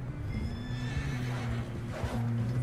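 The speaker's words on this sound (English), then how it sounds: "Is that the horses? Four of them!" Several horses whinny and neigh in overlapping calls in the video game Red Dead Redemption 2, fairly close, over a steady low rumbling background.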